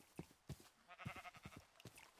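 Sheep bleating in the video game Minecraft, a few short, soft calls spaced across a brief stretch with light footstep-like clops between them.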